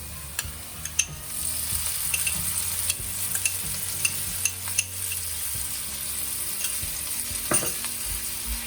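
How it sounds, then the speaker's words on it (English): Chopped onions and garlic fry steadily in a pan for pasta in curry, a constant loud sizzle broken by scattered clicks and scrapes of stirring, with no voices. "Now you can add your chopped garlic in."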